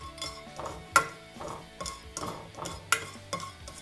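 Whole cinnamon, cloves and star anise being sautéed in hot oil for a village-style chicken salna, with a low sizzle under repeated sharp scrapes and clinks of a spoon stirring against the pan.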